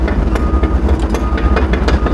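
A Develon DX140 LCR excavator drives one raised track at low speed, producing a loud, close rumbling clatter with rhythmic metallic knocks from the turning track.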